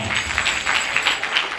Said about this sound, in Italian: Un applauso al tecnico.